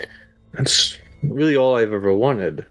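A single sharp sneeze bursts out near the mic, followed right after by a person speaking.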